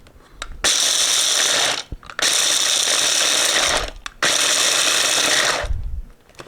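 Pistachios being chopped in a hand-operated chopper, three long loud rattling, grinding bursts of close mechanical cranking separated by short pauses, with no talk.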